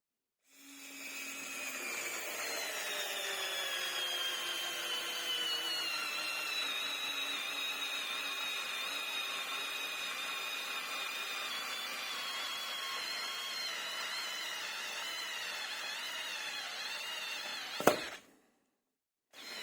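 Parkside PAS 4 C4 cordless screwdriver driving a 5x80 mm screw, a steady whirring motor hum that holds for about sixteen seconds, dropping slightly in pitch under load before a sharp click and stop.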